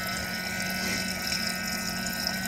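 A small electric coolant water pump on a BMW E90 335i hums steadily with a faint watery whir during coolant bleeding, continuous and close, with no voices.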